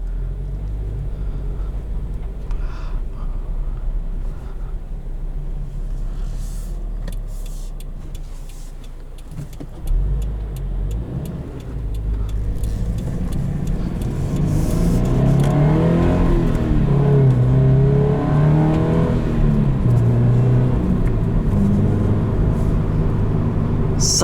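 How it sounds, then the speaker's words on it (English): A 2020 Subaru BRZ with a manual gearbox and a naturally aspirated flat-four engine rumbles from inside the cabin, then climbs in pitch as the engine revs under acceleration, growing louder through the gears. "205 horsepower by a naturally aspirated non-forced induction flat 4."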